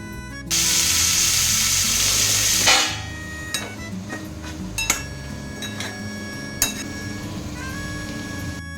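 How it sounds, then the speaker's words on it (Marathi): A loud burst of hot-oil sizzling as spices temper dal for a couple of seconds, then a softer steady crackle with scattered metallic clinks of utensils. "डाळीला छान अशी फोडणी दिली"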